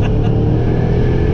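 Mercedes CLS55 AMG engine roaring under hard acceleration, a loud, steady deep rumble heard close up without talk.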